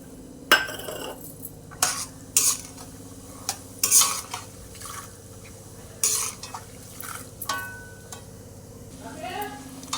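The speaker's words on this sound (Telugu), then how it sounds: "జీలకర్ర ఆవాలు వేగినాక 1 కప్పు పల్లీలు" Peanuts fry in oil with cumin and mustard seeds, a soft background sizzle broken by repeated sharp scrapes and clinks of a metal spoon against the pan, close and intermittent.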